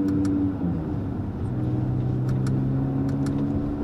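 A 670 hp Audi RS3 sedan rolling gently through a village, its engine a low, subdued hum with a slight rise in pitch partway through, fairly close and steady with light clicks over it.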